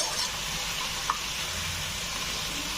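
Spice masala sizzling steadily in a pan, for a Bengali potato and papaya curry, with a continuous soft hiss and one brief click of a utensil near the middle, close by and without talk.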